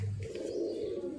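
Soft, low cooing from high-flyer pigeons, a short murmuring burble close by with faint background noise.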